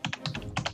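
Quick bursts of keystrokes on a computer keyboard, about six clustered taps in under a second, close and clear with no voice over them.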